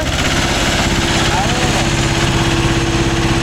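A Mahindra 265 DI tractor diesel engine runs steadily at a fast, even chug, loud and close, with a constant throb and no pauses.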